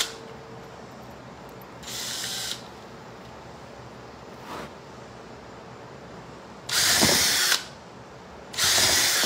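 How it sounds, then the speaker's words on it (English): A drill bores two holes into a pumpkin stem in short bursts, a few loud high whines separated by quiet pauses, with a brief tap between them and no talk. "I think I'm going to drill two holes in the stem and put my pipe liner for that."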